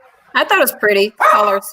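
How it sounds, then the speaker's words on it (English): A dog barks a few times in a home during an online viewing party, the sharp yips mixed in with and partly masked by people chatting. "Oh, that's my dog."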